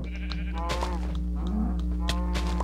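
Sheep in the Minecraft video game bleat several times in quick succession, the bleats overlapping loudly over a steady background hum.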